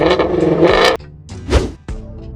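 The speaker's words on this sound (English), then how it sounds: "It bellows and screams, and the exhaust system doesn't seem like it can be bothered to put a muzzle on things." A 5.2-liter car engine and exhaust bellowing and screaming, loud close revs rising and cutting off sharply, then two more short aggressive blips with crackling breaks between them.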